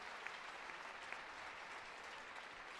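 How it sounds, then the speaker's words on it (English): A crowd applauds at a women's college basketball game between Virginia Tech and Duke. The clapping is faint and distant and holds steady throughout. "much deserved applause from the crowd as well."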